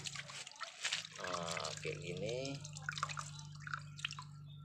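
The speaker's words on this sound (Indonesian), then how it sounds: "Habis itu kita siram dia." Water is poured and trickles over a land tortoise during a bath, splashing and dripping in irregular bursts close by, with a person speaking over it and a steady low hum underneath.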